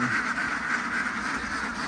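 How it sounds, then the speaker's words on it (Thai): Dense, continuous quacking from a large flock of ducks being delivered to a Thai farm, a steady noisy chorus close at hand with no pauses. "นี่ครับคือเป็ดที่เรามาส่ง"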